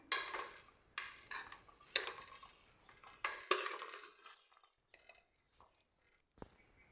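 Green beans being stirred in a pressure cooker give a series of light metallic clinks and scrapes, several spaced strokes close by, tapering into a few quieter taps.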